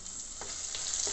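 Thickly cut onions frying with browned cumin in a pan for pulao, a steady close sizzle with soft stirring scrapes.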